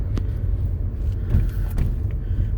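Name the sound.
car driving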